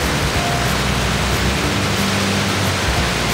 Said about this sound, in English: you even hear and feel the rain outside?